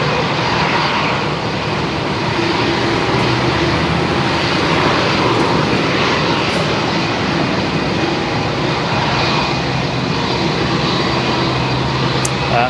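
Steady, loud roar of a jet aircraft taking off at Melbourne Airport, a continuous broadband rumble with whine that holds for the whole stretch, with faint voices over it.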